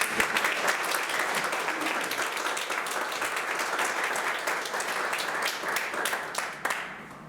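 A church congregation gives a long round of steady, dense applause, filling the room evenly for several seconds before tapering slightly at the end.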